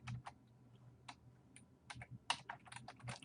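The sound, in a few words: typing on a computer keyboard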